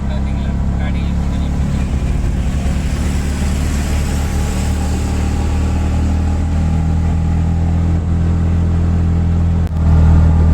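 Auto rickshaw engine straining up a steep ghat road, a loud steady low drone with faint rising whine, running continuously and jolting near the end, with speech over it.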